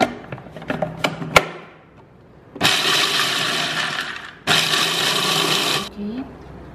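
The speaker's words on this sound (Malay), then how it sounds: "lagi separuh ni saya akan kisar sedikit kasar daripada yang tadi." A blender grinds pecal peanut sauce coarsely in two loud, steady bursts with a short pause between, preceded by clinks and knocks as the jar is handled.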